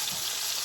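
Sirloin pork chops frying in a skillet give a steady, close, bright sizzle with no talking.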